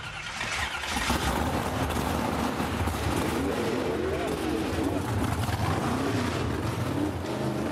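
A 350 short-block engine with bigger carbs and upgraded lifters, built for about 550 horsepower, roars to life after a brief lead-in and holds a loud, dense, continuous rumble close by, with voices mixed in.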